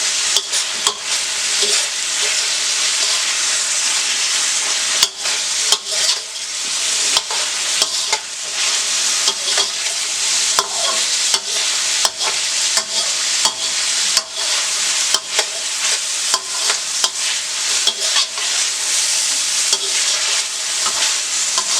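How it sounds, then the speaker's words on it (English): Garlic and ginger paste with fresh garlic cloves frying in hot oil for chicken fried rice, a loud continuous hiss punctuated by frequent quick clicks and scrapes of stirring, close and without voices. "I'm just add my garlic and ginger paste and fresh garlic cloves."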